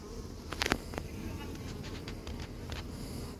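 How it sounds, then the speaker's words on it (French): Honeybees buzz faintly around a hive's exit flap, with several short, sharper passes close by, over a low steady background. "les abeilles sortent par le clapet là"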